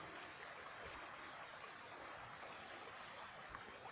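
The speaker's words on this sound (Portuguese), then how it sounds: "Essa água tá muito cheia." A very full, swollen river at a mining site flows past in a steady, dense rush of water, loud and continuous throughout with no voices.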